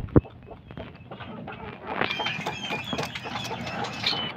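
Gamecocks cluck and call while being fed, giving scattered close clucks over a low background rumble, with a sharp knock near the start.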